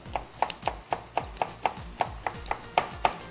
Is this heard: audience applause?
no